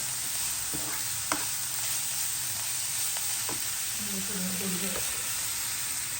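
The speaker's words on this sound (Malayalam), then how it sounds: "ഇഞ്ചും വെളുത്തുള്ളിയും പേസ്റ്റ് ഉപ്പും മുരിയും ഒക്കെ ഇട്ട് നല്ലോണം വഴറ്റിയെടുക്കാം നല്ല താളുന്ന വരെ" Ginger-garlic paste with salt and chili sautéing in a pan for a Kerala pearl-spot fish dish; a continuous hissing sizzle with occasional sharp stirring clicks, close and fairly steady, no talking.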